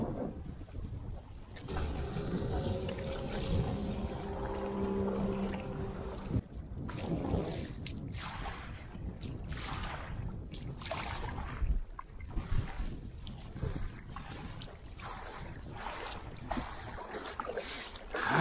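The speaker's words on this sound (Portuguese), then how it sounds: "Só o vento que tá, ó, como tá agitada a água, balançando." Wind blows across a kayak rocking on choppy water, steady rushing buffeting with splashes and knocks against the hull, close and fairly loud throughout; a brief voice comes and goes.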